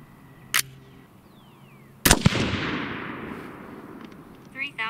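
Rifle shots from a .223 Wylde rifle during load development, firing 27.2-grain charges with 60-grain bullets: a sharp close report with a long rolling echo, preceded by a smaller pop, outdoors.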